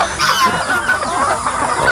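Free-range chickens cluck busily close by, a continuous overlapping chatter of several birds.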